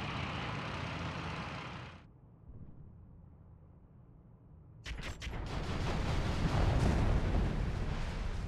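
Bombs dropped from aircraft in the Rise of Flight game, with a Felixstowe F2.a flying bomber over a harbour: a steady engine roar cuts out, then a loud, sustained rumbling explosion wash builds and lingers.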